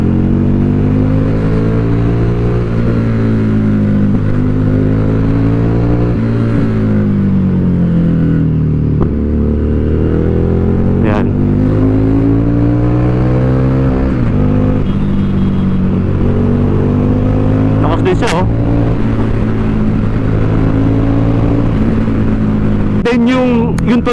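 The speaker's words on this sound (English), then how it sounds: "Napaka-macho ng tunog ng motor niya. Ng muffler niya." A Harley-Davidson Street 750 motorcycle engine rumbles loudly and deeply through its muffler, rising and falling in pitch with repeated revs over a steady idle, while someone talks over it.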